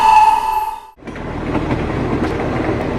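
A cartoon-style train sound effect opens with a sustained horn-like tone that cuts off, followed by a steady rumbling clatter of a running train.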